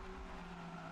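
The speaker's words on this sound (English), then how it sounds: "Another car slides off, nudges the barrier." A Honda Civic race car slides off the track at Oulton Park during a Civic Cup race, heard as steady, distant tire and engine noise with a faint skid under the broad track din, no voices.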